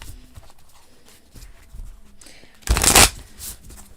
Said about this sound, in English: Let's pull you a couple more cards here.